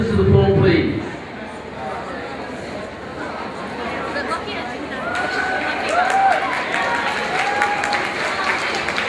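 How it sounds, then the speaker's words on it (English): An audience at a ballroom dance competition gives steady applause for a juvenile couple, with cheering and crowd chatter mixed in, and a brief loud voice near the start. "big round of applause for the juvenile couple"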